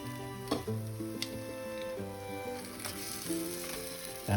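Chicken wings cooking in an air fryer give a steady humming whir with a light sizzle underneath, and a few sharp clicks and knocks of handling come through near the start, middle and end.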